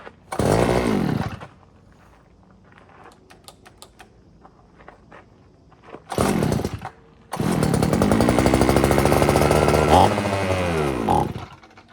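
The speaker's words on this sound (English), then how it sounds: "Let's try the idle a little bit higher." A StrikeMaster ice auger's small two-stroke engine is pulled into life, revving loudly for a second, dying back, then roaring again in two long bursts with clicks and mechanical tapping between them.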